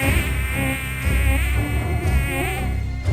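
A swarm of small mosquitoes buzzing: a dense, loud, continuous whining drone with wavering pitch, close up and without pause.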